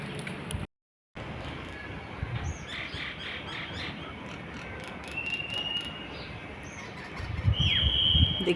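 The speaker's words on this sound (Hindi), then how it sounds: "आप इनफैक्ट बर्ड्स की चिर्पिंग भी सुन सकते हैं।" Small birds chirp in short high tweets scattered through a residential society garden with neem and guava trees, heard over steady outdoor background noise, with a brief dropout near the start.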